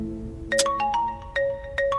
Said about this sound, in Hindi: अरे मेरी घरवाली का फोन आ रहा है